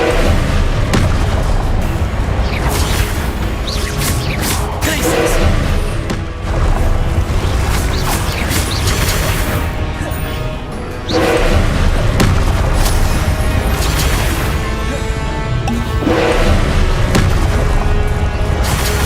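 Spell blasts from Confringo and Incendio in Hogwarts Legacy: loud, booming explosions and fiery bursts come one after another over a continuous rumble, with brief lulls in between and no talking.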